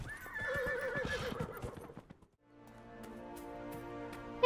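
A horse in the video game Dragon Age: Inquisition gives a loud, wavering neigh over rapid hoofbeats, then after a short gap a sustained tonal in-game sound follows, ending with a sharp hit.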